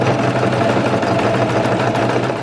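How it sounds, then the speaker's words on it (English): A sewing machine runs steadily while stitching fabric, a loud continuous mechanical whir with a fast, even rhythm and no pauses. "Then I always lower the needle and I will start sewing."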